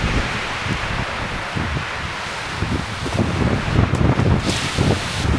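Blizzard wind roars steadily outside a snowbound cabin, a continuous gusting rush with low buffeting thumps against the microphone, loud and close throughout, no voices.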